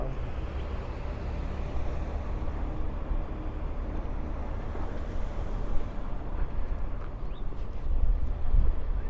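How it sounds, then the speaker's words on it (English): Wind buffets a microphone on a Brooklyn street along Avenue X, a steady low rumbling roar with faint traffic beneath that grows stronger toward the end. "And as you can tell, it is still windy."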